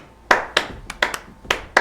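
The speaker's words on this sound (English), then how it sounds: "Maybe it's clapping." Hand clapping, seven sharp claps in an uneven rhythm, close and clear with no talk.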